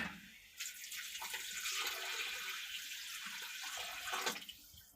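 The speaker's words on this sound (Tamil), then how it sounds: "நமக்கு இப்போ தேவைக்கு தண்ணி சேர்த்துக்கலாம்" Water pours steadily into a pan of prawn curry gravy for several seconds, a close, continuous splashing rush that stops abruptly near the end.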